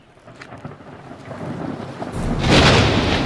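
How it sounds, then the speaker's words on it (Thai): A thunderstorm: low thunder rumbles and swells over steady rain, then breaks into a loud, close crash near the end. "เกิดมีพายุใหญ่"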